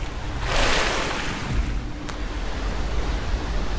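Water in the video game Tomb Raider Anniversary, a steady rushing, surf-like wash of splashing water that swells early and holds on, with no talk over it.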